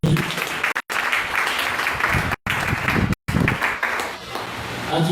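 A church congregation bursts into sustained applause for the Lord, dense clapping filling the room at steady loudness, broken by a few brief sharp cuts.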